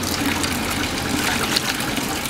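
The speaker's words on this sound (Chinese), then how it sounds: "我再洗，把它洗干净。" Water gushes steadily from a tap while a fish is washed, a continuous close rushing flow with slight splashing.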